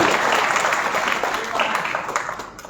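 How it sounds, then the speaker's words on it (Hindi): Applause from a women's gathering at a banking-agent conference in Uttar Pradesh, a dense steady patter of clapping lasting a few seconds and thinning slightly toward the end. "जोरदार तालियां हमें रश्मि जी के लिए।"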